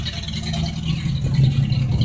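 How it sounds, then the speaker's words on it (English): A 1976 Ford LTD V8 idles steadily after an oil flush and oil change, making a loud, even low rumble with a faint mechanical whir above it, continuous and close, with no talking. "she's sitting there idling, and sounds a lot better than it used to"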